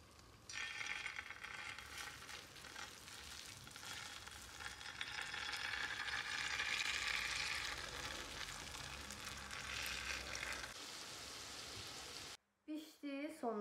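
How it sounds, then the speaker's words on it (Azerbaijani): Churro dough deep-frying in hot oil gives a steady, dense crackling sizzle that swells slightly midway, then cuts off near the end, followed by brief other noise. "Aldığımız bu qarışımı tökürük bir qabın içinə və bunu yağda qızardacaq"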